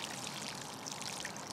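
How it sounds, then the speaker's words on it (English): Water pours steadily from a watering can onto a garden plant, a continuous close splashing trickle running through the whole short moment with no talking. "So get your water can, give it a really good soak,"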